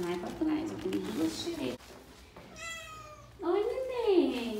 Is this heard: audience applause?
no